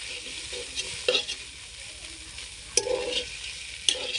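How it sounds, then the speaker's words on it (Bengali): Pea greens and taki fish are being stir-fried in a pan, giving a steady sizzle broken by a few sharp scrapes and clinks of the spatula against the pan, close up and without talk. "এবার আবার ভাজা ভাজা করি।"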